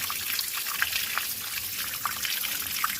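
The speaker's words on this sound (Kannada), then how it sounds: "ಅದ್ಭುತ ಫಾಲ್ಸ್, ಮಿನಿ ಫಾಲ್ಸ್." A small waterfall on a trekking trail at Konajekallu near Moodbidri in Dakshina Kannada, Karnataka, sends out a steady, fairly soft wash of flowing water with light splashy trickles running through it.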